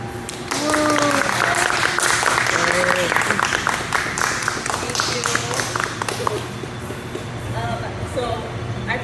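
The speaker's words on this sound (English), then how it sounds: "Please join me in a round of applause." An audience at a military honor ceremony breaks into sustained applause, a dense wash of clapping that starts abruptly and carries to the end, with voices calling out and talking over it.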